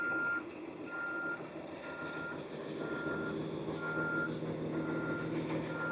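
A reversing bus gives off steady, evenly spaced backup beeps, about seven in a row, over a rumbling engine idle, fairly close and with no talk.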